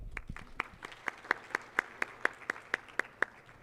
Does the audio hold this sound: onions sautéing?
no